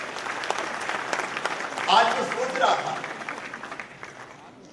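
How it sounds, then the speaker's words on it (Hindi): Audience at the inauguration of an auditorium breaks into applause that swells to a peak midway and then fades, with someone speaking over the clapping. "उनके लिए भी तालियां"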